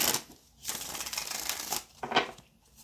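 Tarot cards are shuffled by hand in a few quick riffling bursts separated by short pauses, close and fairly quiet.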